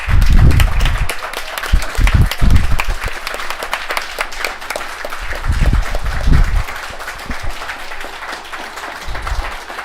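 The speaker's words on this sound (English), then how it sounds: "huge round of applause here." Sustained applause from the audience at the 2024 Worlds Championship final at AdeptiCon, a gaming tournament: a dense, loud wash of clapping across the whole stretch, with a few low thumps mixed in.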